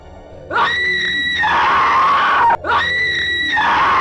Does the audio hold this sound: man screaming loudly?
yes